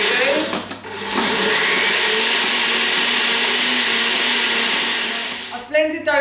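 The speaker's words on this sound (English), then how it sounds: "so I'm just going to start blending now" A kitchen blender whirring loudly and steadily for several seconds as it blends quiche pastry ingredients, starting and stopping abruptly, with a brief voice at the very end.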